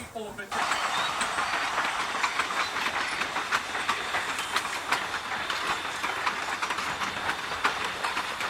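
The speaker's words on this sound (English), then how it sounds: "The train bisects Smith Lake." A train rolls past on a railroad crossing a lake, a loud steady clickety-clack of wheels on rails with hiss and rumble, close by and continuous, no talking over it.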